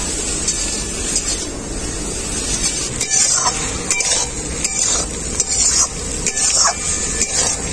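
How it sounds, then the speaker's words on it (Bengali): Spice paste with turmeric being fried and stirred together with taro, a rough sizzling hiss broken by several sharp scrapes and knocks of a spoon against the pan, with a faint voice in the background. "মশলাটা আমি কচুর সাথে খুব ভালো করে কষিয়ে নেব।"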